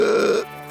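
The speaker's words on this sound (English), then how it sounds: "before letting out a huge burp" Sophie, a cartoon character whose tummy is full of apples, lets out one long, loud, throaty burp. It stretches for almost half a second, then drops to a quiet tail. No one speaks.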